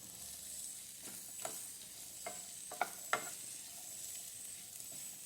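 Steady sizzling of green mango and ginger pickle frying in a pan, broken by a few sharp scraping clicks of stirring; no voices.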